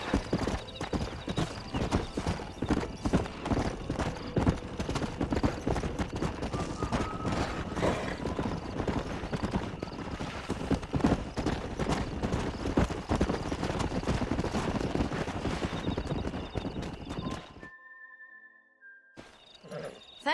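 Horse hooves galloping fast in the Red Dead Redemption video game, a dense, continuous clatter of hoofbeats with occasional whinnies, running for most of the stretch before cutting to near silence.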